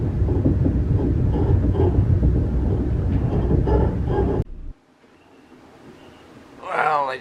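An XPT sleeper train running into Melbourne gives a loud, close, continuous rumble and rattle of wheels and carriage for several seconds, then drops suddenly to a quieter hum, with a brief voice near the end.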